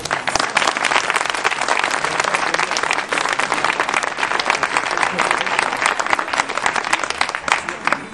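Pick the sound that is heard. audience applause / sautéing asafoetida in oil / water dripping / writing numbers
audience applause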